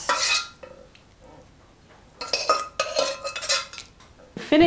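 Spoon scraping and clinking against a pot and plate while soy mince and aubergine curry is dished out, with a loud burst of scraping, a quiet pause, then a run of busy metallic scrapes and clinks close by.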